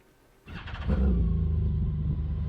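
A flying car's loud engine starts up and settles into a steady, deep rumbling idle, close by and with no voices over it.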